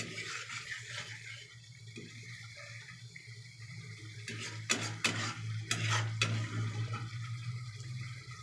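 Spice paste for an egg, potato and cauliflower curry is stirred and fried in a pan, with soft sizzling and several sharp scraping strokes near the middle, all close and fairly quiet.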